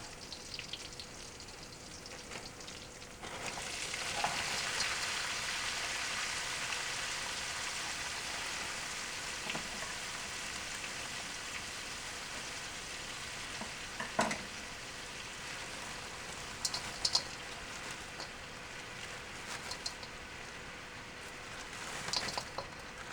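Vegetables stir-fried in hot oil in a wok for Szechuan pork give a loud, steady close-up sizzle, with occasional scrapes and clinks of stirring breaking through.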